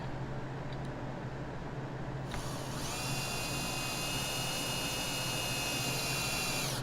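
A power drill driving into wood starts up after a quiet moment and runs steadily with a high, whining buzz, close and continuous to the end.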